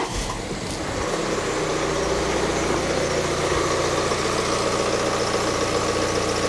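A high-mileage diesel car engine idles steadily, a continuous rough, vibrating rumble with a low throb, close and moderately loud, with no voices over it.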